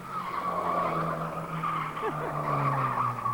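A Toyota AE86 rally-based car drifts, its tires squealing steadily over a continuous engine drone, heard from close by inside the car with no talk.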